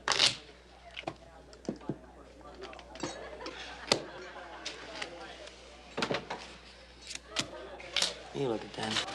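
Cards are riffled and shuffled in several quick bursts, with soft tapping and handling clicks between them and some talking in the background.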